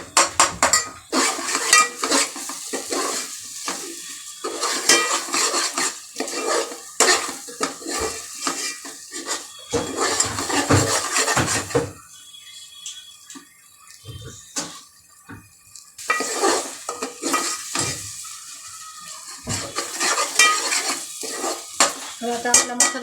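Ground spice paste for an Akshaya Tritiya aamras-poli meal sautéing in a pan, with steady stirring and sizzle, spoon scraping and clinking against the metal pan in frequent bursts, close and fairly loud, no talking.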